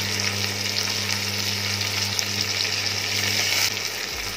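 Curry leaves and chopped coriander fry in hot oil, giving a loud, continuous, close-up sizzle with a bright hiss that holds steady throughout.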